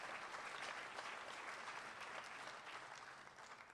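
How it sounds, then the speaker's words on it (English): A banquet audience at a school agricultural program claps for committee chairs, a dense, even wash of applause from many hands that holds steady and fades slightly toward the end. "Let's give our committee chairs a round of applause for all their hard work this"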